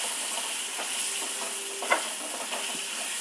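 Okra frying in oil in a pan for a home-cooked meal, a soft continuous sizzle with a few faint stirring clicks and one brief sharper tap near the middle, with no talking.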